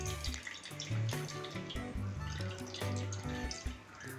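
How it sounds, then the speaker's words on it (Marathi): Water from half a litre of yogurt tied in a cotton cloth is squeezed out and drips and splashes into a sink at close range, with irregular trickling and spattering. "आता याची पुरचुंडी बनवून आता आपण ह्याच्यातलं पाणी पिळून काढूया।"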